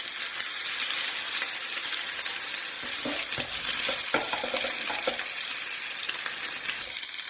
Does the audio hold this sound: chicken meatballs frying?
yes